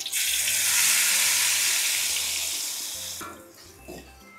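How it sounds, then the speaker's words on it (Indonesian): Washed small dried shrimp (udang rebon) fry in a pan with a loud, broad hissing sizzle. The sizzle holds steady, then eases off near the end, where a few faint stirring knocks come through. "ini di sini aku mau goreng udang rebonnya yang sudah dicuci ya"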